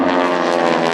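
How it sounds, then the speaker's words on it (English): Two World War II ex-Navy SNJ propeller trainers fly at an airshow, a loud, steady, buzzing radial-engine drone heard overhead for a brief moment. "These are two World War II era ex-Navy advanced training aircraft designated as SNJs."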